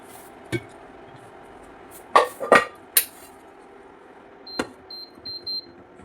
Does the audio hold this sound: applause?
no